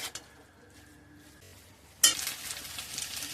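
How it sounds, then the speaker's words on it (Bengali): Banana-stem curry (thor ghonto) thickened with rice paste is stirred in a pan: a quiet low simmer, then a spoon scraping and clinking against the pan, followed by a louder burst of sizzling and stirring. "ভালো করে নেড়ে চেড়ে মিশিয়ে নিব।"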